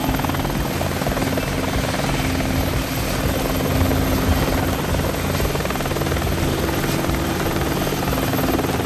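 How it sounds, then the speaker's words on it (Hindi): Helicopter arriving: a loud, continuous rotor thrum and engine drone with steady chopping, holding close and strong throughout with no talk over it. "आपको आवाज़ आ रही होगी, वो रहा हेलीकॉप्टर"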